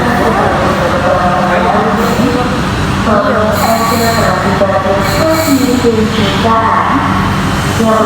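A train near Palembang, South Sumatra, rumbles loudly and continuously, wheels squealing and screeching on the rails, with a faint voice now and then in the background.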